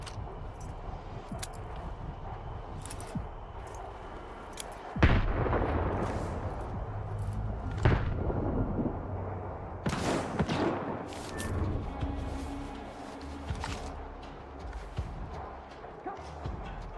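Heavy gunfire and booming blasts in STALKER 2, with scattered shots building to loud heavy bursts, then repeated sharp reports and fading rattles, with occasional talk over it.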